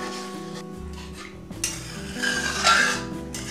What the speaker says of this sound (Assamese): গাখীৰটো দিয়ে মই লৰাই দিম